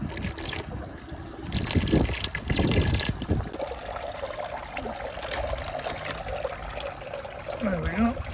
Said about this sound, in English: Banging in this bucket of water.